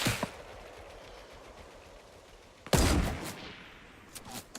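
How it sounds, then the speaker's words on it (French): Bursts of SCAR assault rifle fire in the Fortnite video game, a faint crack near the start and a loud burst about midway followed by scattered shots, with no talk. "Quand il tire avec la Scar"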